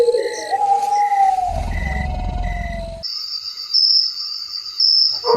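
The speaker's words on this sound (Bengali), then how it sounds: "শুধু ঝিঝি পোকার ডাক" Steady, high-pitched cricket chirping fills a quiet night. Other faint tonal calls run through the first half, then the shrill insect trill carries on alone.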